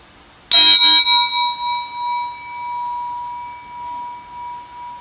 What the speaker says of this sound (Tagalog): as you hear the sound of the bell